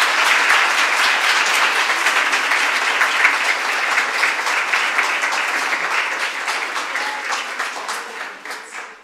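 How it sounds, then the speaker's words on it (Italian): A church wedding congregation applauds the newlyweds with sustained, dense clapping that fills the room, holding steady before gradually thinning and fading toward the end. "adesso possiamo esprimere la festa di questi due sposi in Gesù Cristo risorto con un applauso"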